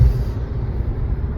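Dense highway traffic rumbles steadily, with a dump truck nearby among the passing cars and trucks, a continuous low roar without talk.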